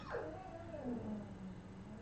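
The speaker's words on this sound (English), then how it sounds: "if you guys hear my dog out there, I don't know what is wrong with her today. She has just been whiny" Dog whining outdoors, a single long drawn-out whimper that slides from high to low pitch, faint and distant against steady background hiss.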